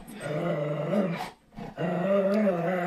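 A dog in a house growls and whimpers in a low, throaty, sustained rumble. It pauses briefly midway with a short breathy whine, then resumes close and loud, with no human voice over it.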